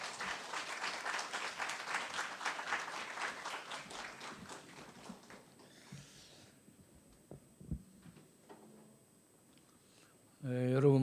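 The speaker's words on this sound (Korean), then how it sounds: "우리 박수로 좀 환영해 주십시오" Congregation in a church clapping to welcome a pastor to the pulpit, a burst of applause that fades out over several seconds, followed by quiet room sounds and a sudden hum near the end.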